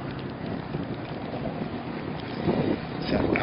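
Wind rushing past a fishing boat on current-swept water near rocks, a steady broad whoosh with gusts swelling louder toward the end, no talking.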